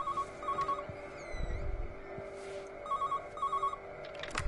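Telephones in Everybody's Gone to the Rapture ring out in short repeated bursts of an old-fashioned electronic trill, sounding in pairs at a moderate distance over a faint ambient hum.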